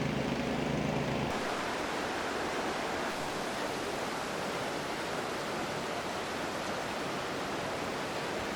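Clear water bubbling along a brook sends up a steady, even rush of broadband noise that fills the entire stretch at moderate level, with a brief low hum near the start and no voices.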